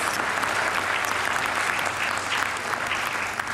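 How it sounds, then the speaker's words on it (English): Sustained applause fills an awards ceremony hall, a thick, even roar of many hands clapping from a large audience, continuous and fairly loud with no voices on top. "Round of applause."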